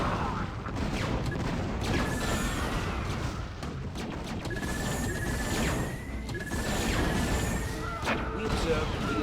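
StarCraft scarabs burst in repeated crashing explosions amid steady battle noise, with rising whistling tones between the blasts and a voice talking over the action.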